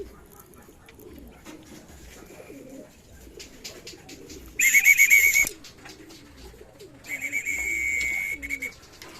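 Soft racing pigeon coos murmur steadily nearby, interrupted by two bursts of loud, shrill chirping.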